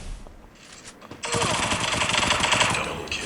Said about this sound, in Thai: มันยิงผมสองเม็ดตายเลยเมื่อกี้